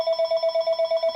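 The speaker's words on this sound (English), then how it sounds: "And there goes the phone." A telephone rings indoors in a craft studio with a rapid electronic warble, about ten evenly spaced pulses in a bright, steady tone at moderate loudness.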